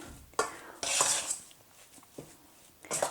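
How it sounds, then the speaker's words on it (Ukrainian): Mashed potato filling for fried pies being stirred in a bowl, a few clinking scrapes of a utensil against the dish with soft squelches between, close and brief. "Перемішую."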